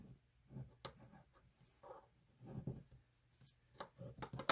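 A bone folder presses and rubs creases into a small glued paper envelope, producing soft, irregular scraping and tapping strokes with a few sharper clicks, close and quiet.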